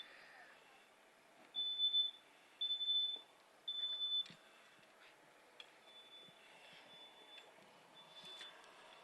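A smoke detector sounds three loud high-pitched beeps, each about half a second long and evenly spaced, followed by a fainter sustained tone in a quiet room.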